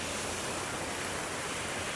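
Sea waves wash against the shore in a dense, steady roar of broadband surf noise, loud and continuous, with no talk over it.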